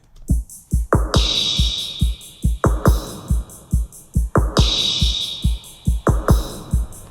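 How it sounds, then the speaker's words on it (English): A programmed drum beat built from Logic stock sounds for the bridge of a remake: punchy kicks and snappy hits in a steady groove, ticking hi-hats, and long open hi-hat washes recurring every bar or so. "So the beat in the bridge sounds like this."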